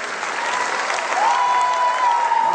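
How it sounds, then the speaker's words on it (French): Loud, sustained applause for 5th- and 4th-year middle school students at a sound-arts and percussion school event fills the room steadily, with a faint steady tone running beneath it. "On peut les applaudir bien fort."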